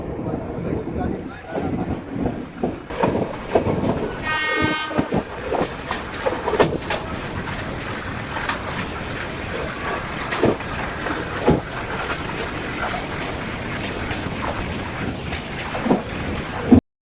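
A meter gauge passenger train pulls out of a junction station, rumbling and clattering steadily throughout with wind buffeting, a brief high whistle-like tone early on, and faint voices in the background.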